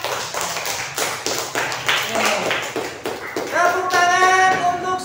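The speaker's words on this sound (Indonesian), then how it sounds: "Tepuk tangan untuk kelompok 4" A classroom of students claps for a group, scattered individual claps building and thinning out, and a voice speaks over the end as the clapping fades.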